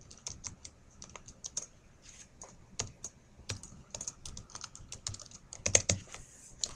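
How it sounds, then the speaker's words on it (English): Typing on a computer keyboard, with steady clicking keystrokes in irregular bursts, fairly close and moderately loud, alone with no voices. "and just type"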